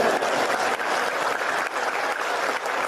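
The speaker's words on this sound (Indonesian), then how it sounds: "Mana tepuk tangannya?" Audience applause during a religious lecture, a full, continuous wash of many hands clapping at an even level for a few seconds with no speech over it.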